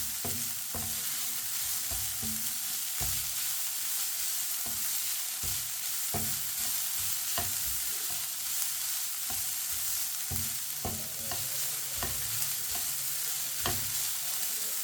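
Carrots being cooked in a pan while a spoon stirs them, with a steady sizzle of frying underneath and sharp, repeated scrapes and taps of the spoon against the pan throughout.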